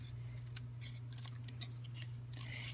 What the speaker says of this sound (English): now I'm just going to trim this pretty tight to the word